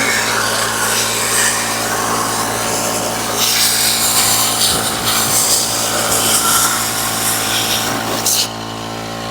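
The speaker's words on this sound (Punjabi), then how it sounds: "ਲਓ ਜੀ ਇਹ ਆ ਪੰਪ ਦਾ ਪ੍ਰੈਸ਼ਰ" A small petrol-engine spray pump fitted with a turbo drones steadily with a constant humming tone and rushing hiss, a brief louder surge in the middle before it eases.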